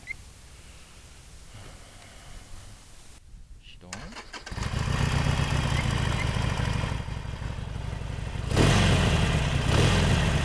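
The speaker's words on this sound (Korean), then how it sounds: "머플러 뭐 소리가 순정인데도 어, 좀 커요" A Harley-Davidson Roadster with its stock muffler starts up, then settles into a rumbling idle before a louder rev swells near the end, all close by.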